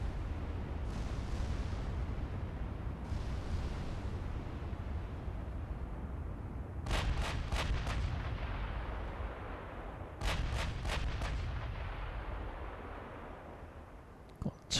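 Naval shellfire from warships in the game Ultimate Admiral: Dreadnoughts, two rapid clusters of loud cracking gun reports over a low rumbling sea-battle background.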